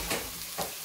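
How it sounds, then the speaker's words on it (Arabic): Veal browning in a pan with curry sauce for an Indian-style stew, a steady frying sizzle with two brief stirring swells, close and alone. "ونخلي كل شيء يتقلى مع بعض"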